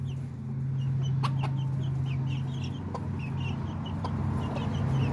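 Backyard chickens cluck softly and repeatedly at middle distance over a constant low hum, with a few sharper chirps scattered through.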